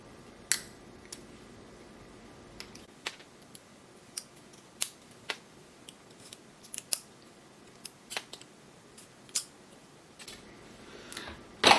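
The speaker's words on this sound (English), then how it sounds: "I take my scissors and I do this" Quiet, irregular snips of scissors cutting hair, a dozen or so sharp clicks spaced unevenly, close by with no voices.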